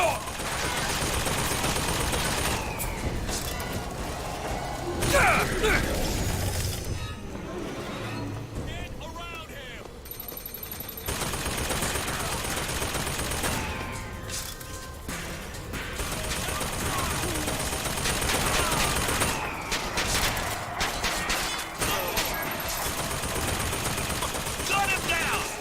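Video game gunfire in Bioshock Infinite: repeated bursts of rapid shots and volleys come in waves across the clip, mixed with game sounds and voices talking over them.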